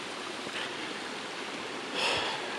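Steady broadband rush of a mountain waterfall beside a bamboo bridge, constant and fairly close, with a slight swell near the end.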